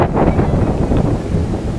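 Strong wind gusts buffet the microphone on a Sahyadri mountaintop at Gaganbawada near Kolhapur, a steady loud rushing roar with low rumble throughout and no voices.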